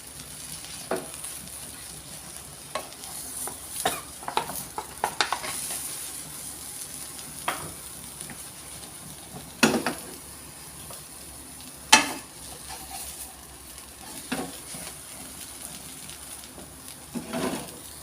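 A chicken omelette fries in a pan and gets stirred now and then. A steady sizzle runs throughout, broken by occasional scraping clicks from a utensil, with no talking.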